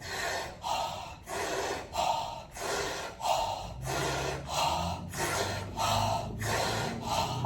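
Deep rhythmic breathing paired with arm swings, about ten regular, forceful inhales and exhales at a steady pace, close and clear with no talking, and a low hum entering partway through.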